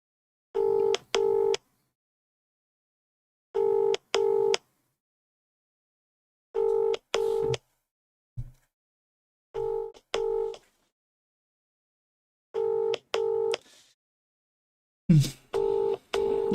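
Telephone call ringing out with no answer, a repeated double ring tone in evenly spaced bursts, clear and alone, interrupted by a brief click near the end.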